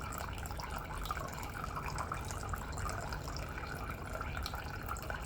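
Water runs steadily from a reverse osmosis filter system, a continuous soft splashing stream with no pauses and no talking.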